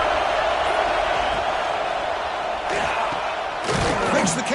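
Crowd noise roaring in a college football video game near the goal line, a steady dense roar with a swelling surge near the end, under a commentator's voice.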